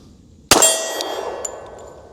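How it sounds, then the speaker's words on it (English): A Glock 30 MOS pistol chambered in 45 Super gives one sharp metallic clang as a round is loaded, ringing briefly afterward, followed by a couple of faint small clicks. "First, we have to load a round."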